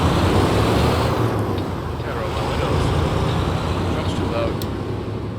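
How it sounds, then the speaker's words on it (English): A loud truck engine in American Truck Simulator drones steadily at highway speed, a dense continuous rumble with road noise and no break. "Gotta roll my windows. Truck's too loud."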